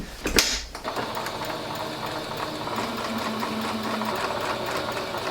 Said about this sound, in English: Let's sew this, shall we?